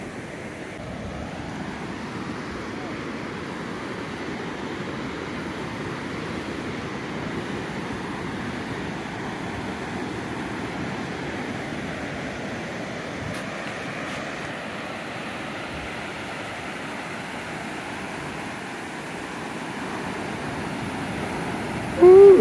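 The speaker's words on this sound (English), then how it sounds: "We'll show you the nice waves." Ocean waves break on a sandy beach at Duli Beach in El Nido, Palawan, a continuous rolling surf wash mixed with wind buffeting the microphone, steady and fairly loud throughout.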